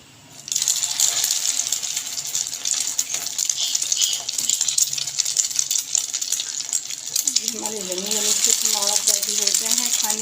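Shimla mirch (capsicum) kebabs frying in a pan, a steady crackling sizzle with dense high hiss running throughout, and a voice speaking near the end over the continuous frying.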